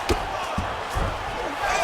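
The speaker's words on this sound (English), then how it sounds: "crowd absolutely loving it as the fighters, however compromised, make their way back to the feet" Crowd noise from a UFC 5 video game fight between Ilia Topuria and Tony Ferguson, a steady roar with a few short thuds over about two seconds, close and moderately loud.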